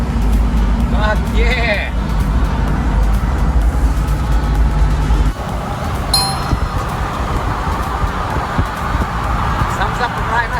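A Toyota FJ drives up close by, its engine rumble loud and steady for about five seconds before dropping off, leaving quieter outdoor ambience while a person speaks briefly.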